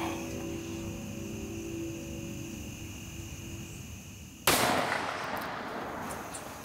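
A single sharp rifle shot cracks out during a deer hunt, loud and close, cutting through a steady outdoor hum of insects and ending in a decaying echo.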